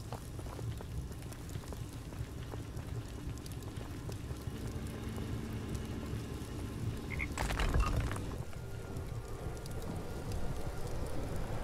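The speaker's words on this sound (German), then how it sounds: "Krötengeräusche wieder." Toads in the VR game Tomb Explorer VR: a soft, steady chorus of croaks over a faint rain-like hiss, distant and continuous, with a brief louder swell partway through.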